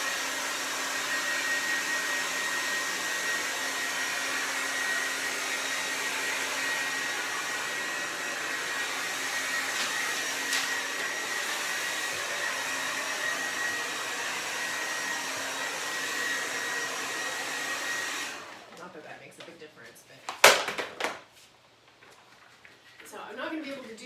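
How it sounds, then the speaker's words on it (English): A hair blow dryer blasts steadily up close to dry acrylic paint during a painting demo, a loud continuous whoosh that cuts off near the end, leaving a few handling clunks and faint noise. "I'm gonna do a little blow dry."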